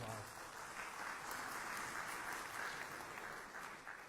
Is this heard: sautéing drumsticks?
no